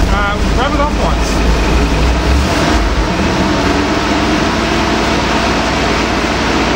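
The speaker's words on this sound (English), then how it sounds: "Rev it up once." Car engine with a 700R4 transmission revving once, a broad steady roar with a brief rise near the start, loud and close, with faint voices in the background.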